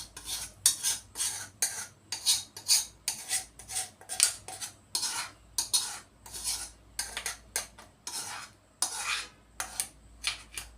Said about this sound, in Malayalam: നമുക്ക് ഈ പാത്രത്തിലേക്ക് മാറ്റി കൊടുക്കാം.